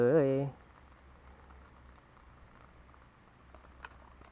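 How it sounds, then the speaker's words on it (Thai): Rain falls at a natural fishing spot, a faint, steady patter that continues after a brief burst of voice at the start. "ฝนตก ฝนตก"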